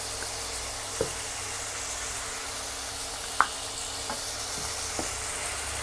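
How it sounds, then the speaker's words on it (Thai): Sun-dried beef fries in hot oil on a stove, a soft constant sizzle and crackle with a few sharper pops and spatters, no voices. "วันนี้เสียงดังนิดนึงนะคะ ใช้สองเตาเลย เตานึงก็ทอดเนื้อแดดเดียว"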